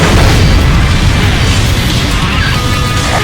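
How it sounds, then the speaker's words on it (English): A missile blast in the aerial combat game Ace Combat Infinity, heard as a loud, dense, sustained roar and boom that stays heavy throughout with no clear gaps. "Enemy launching. Air-to-air missile. You got a missile coming for you, Rook."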